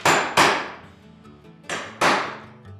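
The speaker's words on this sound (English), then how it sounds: "I punch a hole to get the leather out of the way before I drill" Four sharp metallic hammer strikes in two pairs, punching a hole through leather, each ringing briefly before fading, close and loud.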